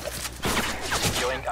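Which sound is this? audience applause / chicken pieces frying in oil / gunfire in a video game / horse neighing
gunfire in a video game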